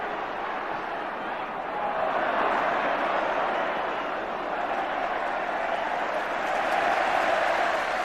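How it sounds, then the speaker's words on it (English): Football crowd on the Kop at Anfield during a 1980s Liverpool versus Everton match, a broad, steady roar of applause and crowd noise swelling and holding throughout. "The applause on the Kop is for Gary Gillespie."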